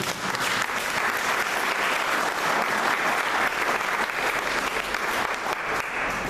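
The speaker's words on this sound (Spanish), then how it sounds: "Denle un aplauso al Señor." A church congregation applauds together in a dense, continuous wash of clapping that stays steady and fairly distant, with no voices over it.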